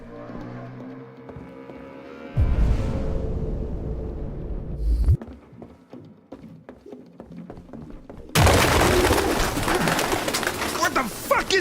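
Pigeons in the video game Detroit: Become Human coo in a low, repeated murmur that swells loudly in bursts, with occasional taps and a rushing flutter of wings.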